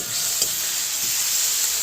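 Chopped tomatoes going into a frying pan for khichuri, with a brief clatter at the drop followed by a steady hiss and soft stirring, close and fairly loud.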